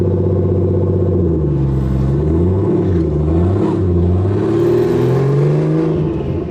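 A Ford Mustang GT350 with a swapped-in Barra inline-six engine and torque-converter transmission driving from inside the cabin, the loud engine drone rising and falling in pitch as it accelerates and changes gears.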